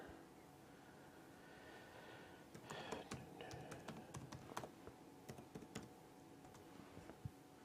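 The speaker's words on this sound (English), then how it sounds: "I'm typing too fast." Rapid typing on a computer keyboard, quick irregular bursts of soft key clicks up close over a low background hum, with no talking.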